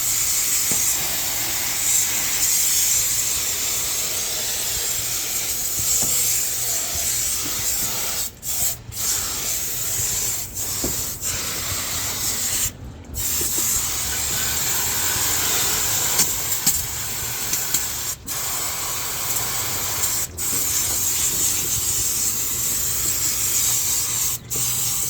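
Cleaner is sprayed around the engine bay of a K-swapped Honda Civic, giving a loud, continuous close-up hiss that runs almost without a break, with a few very short pauses between bursts.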